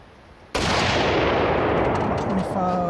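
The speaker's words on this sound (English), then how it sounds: "I'm testing to see if they're going to blow up this rifle" Rifle firing homemade 6.5 Grendel reloaded cartridges, a single loud close shot with a long outdoor rolling echo, a voice starting faintly at the end.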